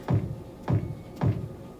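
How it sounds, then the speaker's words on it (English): Three deep, punchy hip hop kick drum hits, evenly spaced about half a second apart, each with a booming low thump that decays quickly. "So first, he had a kick, which sounds like this."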